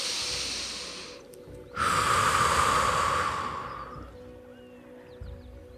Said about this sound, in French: et reprendre une grande respiration.